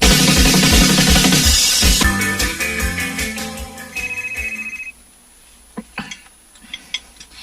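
A mobile phone ringtone plays loudly as a repeating melodic tune for about five seconds, then cuts off, leaving a few sharp knocks and clicks in a quiet room.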